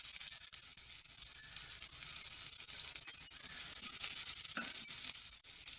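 Chopped shallots frying in sesame oil with mustard seeds, giving a steady, close sizzling hiss with scattered pops and crackles and occasional stirring scrapes throughout.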